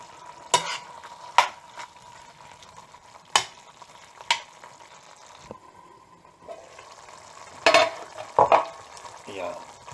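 Mutton liver kaleji masala frying in a pan, a quiet steady sizzle broken by several sharp clanks and scrapes of a spoon stirring against the pan, close by with no talk.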